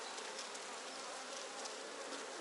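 Honeybees in an opened hive as a beekeeper parts the frames, a dense, unbroken buzzing swarm close by, steady and even, with no talking.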